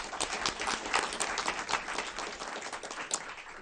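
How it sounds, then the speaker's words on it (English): A school board meeting audience applauds budget team members, a steady patter of many hands clapping in a room, moderately loud and continuous. "Please give them a round of applause as well."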